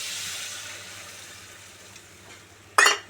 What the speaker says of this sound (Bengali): মশলাটা কষানো হয়ে গেছে এবার তার মধ্যে আমি জল দিয়ে দেব